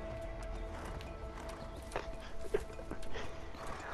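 Horses on a farm in the A Way Out game, hooves clip-clopping and shuffling at a moderate distance over a steady ambient bed, with a few faint snorts.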